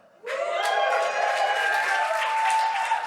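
A comedy club audience bursts into applause at a stand-up show, the clapping starting abruptly and holding as a dense, even roar with some cheering from the crowd.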